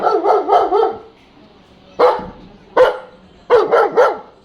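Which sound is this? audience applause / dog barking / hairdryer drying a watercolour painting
dog barking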